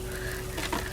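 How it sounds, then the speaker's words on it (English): Steady crackling sizzle of hot dogs and hamburgers on a hot barbecue grill, close and continuous, with a few brief scrapes partway through. "Listen to that sizzle."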